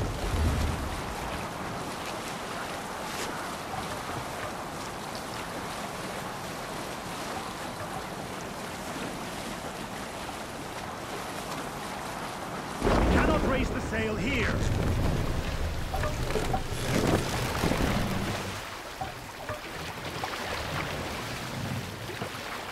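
A sailing ship moves across the sea in Assassin's Creed Valhalla, with a steady wash of waves and wind that swells into louder splashing and creaking surges midway before easing.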